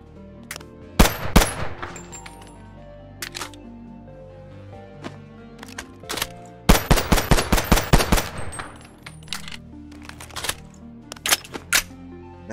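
Rapid automatic gunfire from a firearm in BoneLab as a magazine is emptied, loud sharp cracks in short bursts then a long stuttering run near the middle, with single shots and clicks scattered between.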